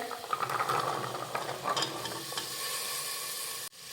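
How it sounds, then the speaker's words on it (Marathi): Soaked chickpeas tipped into a pan of masala spices frying for chole, with a steady loud sizzle and stirring scrapes through most of the clip, then a sudden brief drop near the end. "आता यामध्ये भिजवलेले छोले घालूयात।"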